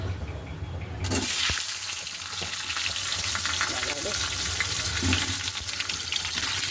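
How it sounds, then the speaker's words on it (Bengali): Potatoes frying in a pan with salt and turmeric after whole spices go into hot oil, a loud close sizzle that starts abruptly and continues steadily, with faint stirring scrapes and no talking. "আলুগুলো ভাজা হোক"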